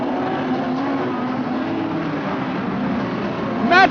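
Modified sedan race cars thunder four wide down the main straight at Kingaroy Speedway during the 2017 Kings Royal A-Main, a dense continuous engine roar with a sharply rising whine from a nearby car at the end.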